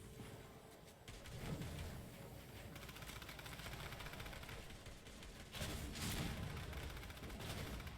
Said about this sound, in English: But there's gunfire all over the place.